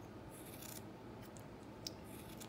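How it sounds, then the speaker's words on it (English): Scissors trim a knitted yarn pom-pom for a baby sleep sack set, giving soft, quiet snips in a few brief bursts against low background noise. "Okay, so I just give it a trim until I like how it looks."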